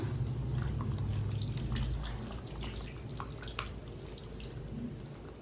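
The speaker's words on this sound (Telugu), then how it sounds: "ఒక కేజీ శనగ నూనె పోస్తున్నానండి" Groundnut oil, about a kilogram, poured into mango pickle, a steady dripping, glugging liquid stream heard close and fairly faint throughout.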